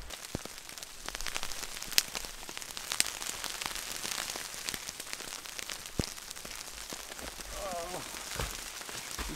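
Heavy rain drums on a tent during a wet, windy winter overnight camp, a dense and continuous patter of drops with sharper hits scattered throughout, and a brief animal-like call near the end.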